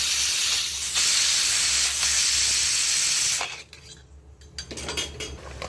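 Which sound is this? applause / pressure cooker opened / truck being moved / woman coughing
pressure cooker opened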